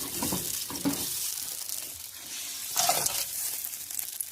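Tamarind juice poured into simmering sambar in a pot, a close hissing sizzle with brief watery splashing bursts, no talking.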